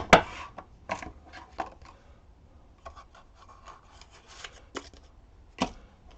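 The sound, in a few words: shuffling a deck of playing cards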